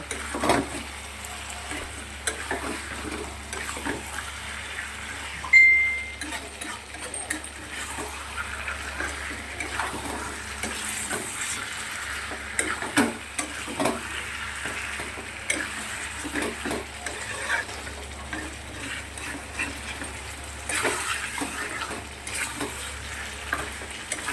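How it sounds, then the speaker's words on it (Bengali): Bhetki fish curry cooking in a pan over a low gas flame, a soft steady sizzle with intermittent spoon stirs and one sharp metallic clink early on, fairly quiet and without talk. "একটু গ্যাসটা কম করে দিয়ে এবারে ভালো করে কষিয়ে নেব"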